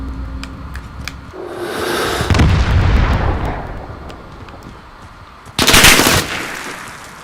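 A grenade blast amid gunfire in the shooter Modern Warfare: rapid machine-gun bursts rise into a heavy, rumbling explosion, then a second sharp, loud blast near the end, with no talk.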